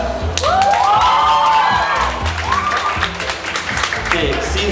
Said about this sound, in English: Kurt has the biggest applause